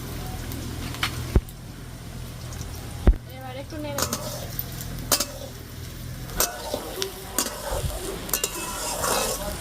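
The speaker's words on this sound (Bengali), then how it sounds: "তেলটা গরম হয়ে গেছে এবার পেঁয়াজ কুচিগুলো দিয়ে দেবো" Chopped onions hit hot oil for a mutton curry, producing a continuous sizzle broken by repeated stirring clicks and clatters against the pan.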